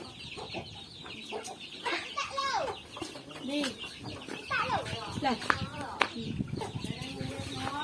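Free-range village chickens cluck and call around a rural yard, with a rooster among them, in short bursts under nearby conversation.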